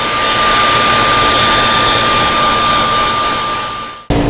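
A heat gun blasts to set paint on a distressed crappie fishing lure, a loud, steady, close airy roar that cuts off abruptly near the end.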